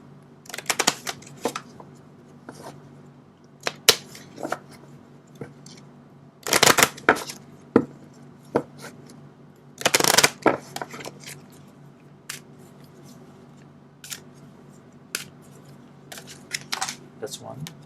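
Tarot cards are shuffled and pulled from the deck: scattered crisp riffles, snaps and papery flicks come in irregular bursts over a quiet background, close and moderately loud.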